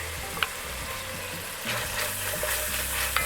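Garlic sizzles as it goes into a hot pan for a keto peanut curry chicken, a steady close frying hiss with a low rumbling hum underneath and a few brief crackles.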